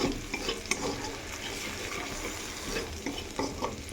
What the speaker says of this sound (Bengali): একটু ভাজা ভাজা হয়ে এলে তারপরে আমি মশলাগুলো দিয়ে কষিয়ে নেব